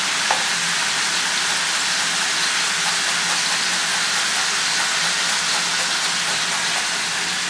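Onion or filling sizzling and frying in a pan for a Latvian broth pie recipe, a steady broadband hiss that holds at an even level throughout with no talking.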